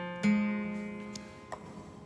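An acoustic guitar chord strummed once with a capo on the neck, ringing out clearly and decaying over two seconds, with a couple of faint string or finger taps near the end.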